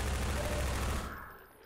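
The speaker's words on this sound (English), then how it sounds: "You're just trying to shoot me with machine guns." Rapid, dense machine-gun fire crackles in a chaotic Half-Life 2 multiplayer battle at a lighthouse. A loud burst rattles for about a second and then trails off abruptly.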